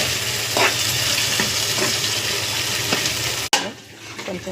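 Potatoes frying in a pan for aloo fry, a steady close sizzle with occasional stirring scrapes, then a sharp clatter and quieter crackling toward the end.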